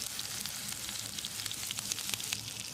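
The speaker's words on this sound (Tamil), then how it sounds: "வெங்காயத்தை லேசாக செவந்து வர அளவுக்கு வதக்கிடலாம்." Finely chopped shallots sizzle in coconut oil with mustard seeds and curry leaves in a pan, a steady close crackling fry with scattered pops and no talking.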